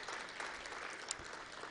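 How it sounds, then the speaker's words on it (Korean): A church congregation applauds mothers during a Korean Sunday worship service, a brief stretch of steady clapping from many hands, moderately distant and fairly soft. "우리 어머니들에게 우리 박수 한번 드리겠습니다"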